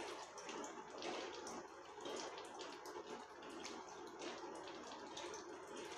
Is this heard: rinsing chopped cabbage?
yes